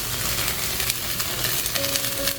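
Tuna cutlet filling with curry leaves, coriander leaves and mashed potato being stirred in a pan over a very low flame; a steady soft sizzle with continuous scraping and mixing, close and fairly loud.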